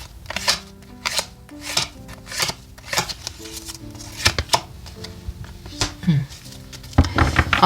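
Tarot cards being drawn and handled from a deck, producing soft papery slaps and shuffling flicks in a loose rhythm, close by, with a person talking intermittently over them.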